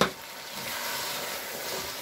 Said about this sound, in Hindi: अब इसमें हम 3 अदद टमाटर का पेस्ट फ्रेश ऐड करेंगे